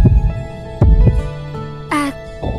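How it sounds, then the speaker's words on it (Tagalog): A deep heartbeat sound effect throbs in slow, heavy pairs of thumps under sustained music, with a brief rising tone in between. "Bumibilis ang tibok ng puso mo."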